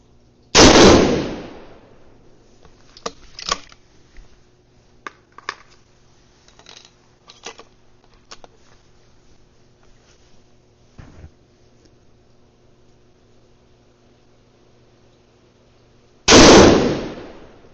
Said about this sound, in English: we're going to go ahead and shoot the right side target now, the upper right.